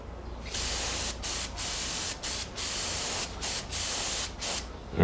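Short hissing bursts from a spray can putting light coats of lacquer onto a woodturning, each spray broken by brief pauses, steady and close.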